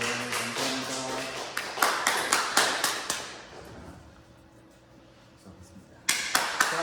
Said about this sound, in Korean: 여러분 박수 한번 쳐주세요